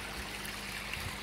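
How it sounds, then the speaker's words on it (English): Water spilling from a short pipe fitted with a cut-down rubber elbow into a garden koi pond, a soft continuous trickle and splash heard nearby and fairly quiet, with no voices. "I've added a little bit of pipe and a cut down rubber elbow on here, just so the water's coming out and giving me a bit more flow around the pond"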